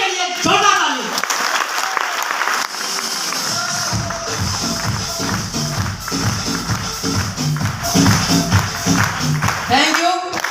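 An audience applauds at a speech, dense and continuous, with a voice speaking over the clapping in places.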